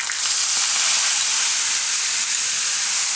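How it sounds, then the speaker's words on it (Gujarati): Spice mix with curry leaves hisses loudly and steadily in hot oil in a pan for a cabbage and yogurt curry, a dense close sizzle with no break. "અને આપણે જે મસાલો તૈયાર કર્યો એ તેલમાં નાખી દઈશું"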